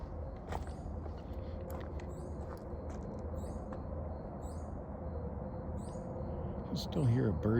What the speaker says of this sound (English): Still hear a bird chirping back there, which is kind of odd this late at night.